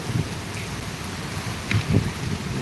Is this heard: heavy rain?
yes